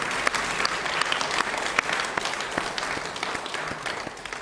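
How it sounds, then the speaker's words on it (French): Congregation applause at a religious retreat in Paris, a dense, steady wash of many hands clapping with sharp individual claps standing out, sustained throughout and tapering slightly at the end. "Let us give a mighty applause to Jesus."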